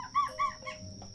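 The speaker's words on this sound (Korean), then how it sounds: "강아지 짖는 소리가 나냐?" A dog gives two quick, fairly close barks followed by a softer third yelp, with a steady high tone underneath.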